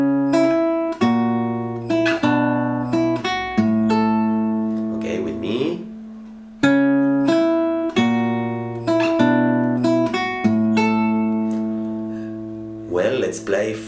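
Fingerstyle acoustic guitar plays the opening of a song from Toy Story 2, with plucked bass notes and melody ringing in a slow, steady pattern, close and clear, with no talking.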